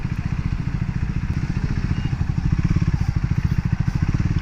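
A Triumph Speed 400 motorcycle engine runs steadily close by, a deep, bassy, rapid pulsing throb with fine mechanical clatter that stays even and unbroken throughout.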